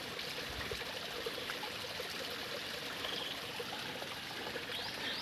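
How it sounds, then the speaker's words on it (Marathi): Steady flowing stream water from a hillside spring near Patan, a continuous soft rush with small trickling details, fairly distant and even throughout, with no voices. "पाण्याचा आवाज मात्र कानांना मोहित करून टाकतो"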